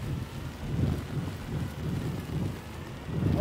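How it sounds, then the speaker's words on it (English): Wind in the Astroneer video game blows as a steady, full rushing roar that swells and eases in slow gusts throughout. "There's a lot of wind in here,"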